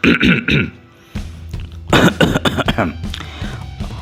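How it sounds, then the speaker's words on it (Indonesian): A man coughs in a few harsh bursts, pauses briefly, then clears his throat roughly several times, close and fairly loud. "Lelaki bermuka hijau letakkan tangan kirinya di atas badan lalu batuk-batuk beberapa kali."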